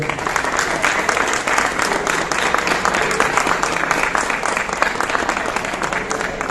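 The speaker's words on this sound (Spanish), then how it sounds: "Le damos un fuerte aplauso." Audience applause fills a presentation at the 15th book fair: a steady, dense wash of many hands clapping close by, sustained at even loudness from start to finish.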